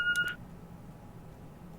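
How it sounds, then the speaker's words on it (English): An answering machine in the video game The Walking Dead gives a couple of short, quick electronic beeps at the start, followed by a quiet, low background hum. "What's that beeping?"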